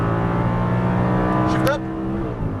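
An Audi R8 engine on a race track holds a steady, loud drone with a rising harmonic sweep partway through, and a voice talks over it inside the car.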